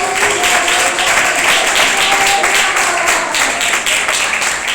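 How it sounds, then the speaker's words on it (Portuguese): Rhythmic group clapping in steady unison at a church service, loud and continuous throughout, with a faint murmur of voices beneath. "Bate palmas para ele."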